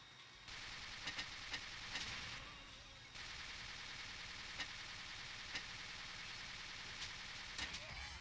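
Gunfire in the blocky shooter game Ace of Spades: several sharp single shots crack at irregular intervals over a steady, fairly quiet game background hum, with a brief gap of near silence in between.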